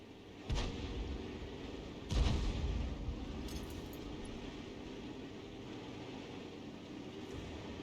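The GW Tiger (P) tank's cannon fires twice in a video game, each a booming blast followed by a rumbling tail, the second heavier, against a low steady engine hum.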